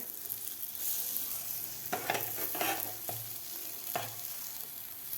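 Capsicum rings filled with egg fry in a pan. A soft, fairly quiet sizzle sits in the background, and a few distinct scraping or turning sounds from a utensil stand out above it.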